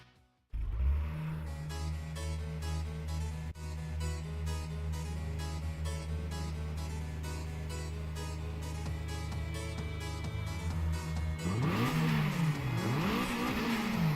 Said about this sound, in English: Her engine's so much louder than mine that I can barely hear my car rev when she's revving hers at the start